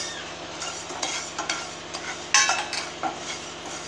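Chana dal and rice dry roasting in a pan for sambar powder give off dry rustling and scraping as a spoon stirs the grains, with a few sharper clinks. The sound is close and moderately quiet, with no one speaking.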